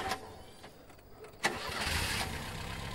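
A repaired car in the horror game Siren Head Awakening cranks briefly, then its engine catches and settles into a steady idle rumble, close and fairly loud, with no talk.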